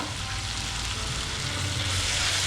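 Tomatoes frying in a pan with onions, a steady close sizzle filling the whole stretch with no talking.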